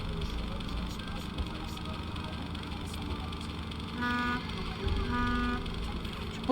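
Car horn honks from traffic ambience in the Nancy Drew game Stay Tuned for Danger: two short tonal toots near the end over a steady background hum, with people talking over it.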